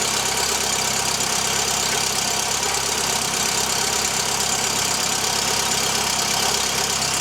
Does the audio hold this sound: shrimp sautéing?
no